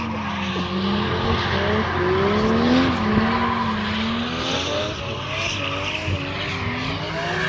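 Race car on a road course with elevation changes, engine note rising and falling as it drives past, loud and continuous with tire squeal, no talk.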